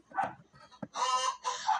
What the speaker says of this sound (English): Why is there a dog in the store?